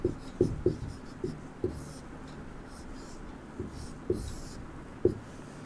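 A pen writes an answer by hand into a box during a Sanskrit lesson, giving intermittent scratchy strokes and taps close by over a steady low hiss.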